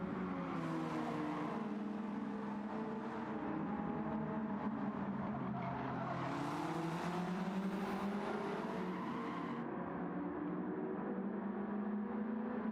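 Race cars in the Gran Turismo 7 sim racing game roar continuously, with several engines rising and falling in pitch as they rev and pass close by.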